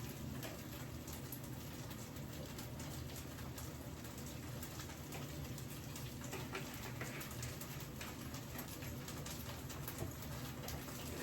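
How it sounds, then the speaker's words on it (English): Grits cakes frying in oil in a skillet, a steady close sizzle and crackle that runs unbroken throughout with no voices. "You can hear them sizzling."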